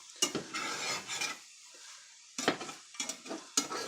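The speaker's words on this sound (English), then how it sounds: "keep it stirring, because that egg is still cooking." Beaten eggs are stirred as they cook in a pan for breakfast burritos, making soft scraping strokes in short, uneven bursts with pauses between them.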